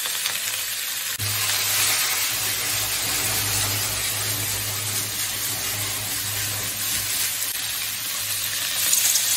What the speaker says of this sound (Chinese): 放点生姜煎啊，然后再生姜入味。